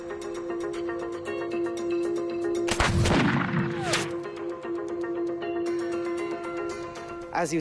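Two loud musket shots fired at targets, sharp broadband blasts a second apart, over a steady background of tonal music.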